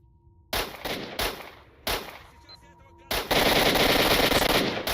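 Gunfire from a gunfight in the video game Stalker: several loud bursts of rapid automatic fire, separated by brief gaps, then a sustained continuous volley at close range.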